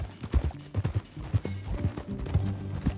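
Steady clip-clop of horse hooves at a quick galloping rhythm in Red Dead Redemption 2, close and fairly loud, with a faint murmur of voices underneath.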